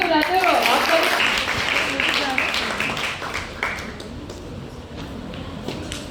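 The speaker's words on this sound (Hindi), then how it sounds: "तालियां बजाते रहो आप।" Audience at an NCC certificate ceremony for cadets gives applause that starts loud and dense and gradually thins, with shuffling and footsteps and people talking over the clapping.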